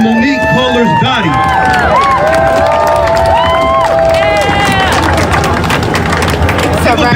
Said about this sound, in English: Give a big shout. Give a big round of applause for Monique Kohler's Dottie.